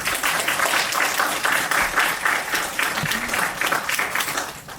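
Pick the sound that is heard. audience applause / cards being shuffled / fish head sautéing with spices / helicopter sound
audience applause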